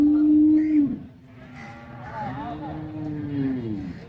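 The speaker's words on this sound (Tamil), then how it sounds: "இது பூராமே பெரிய பெரிய மாடுகள்" Kangayam cattle at the Pollachi cattle market: one deep, loud moo up close, then a second, longer lowing call after a brief pause, with faint market background around it.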